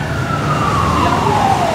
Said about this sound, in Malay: Ada bomba datang lagi lah.